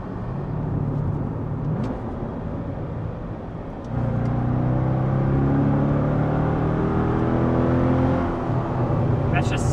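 A C6 Corvette fitted with universal valved mufflers accelerates hard in second gear toward 80 mph, its engine droning and rising steadily in pitch with a brief dip before climbing louder, heard from inside the car with some talk.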